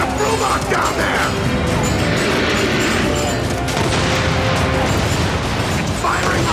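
Gunfire and explosive booms from a robot firing on a building during an Xbox game demo at a 2008 E3 press conference, loud dense bursts over constant rumble, with people talking over the action.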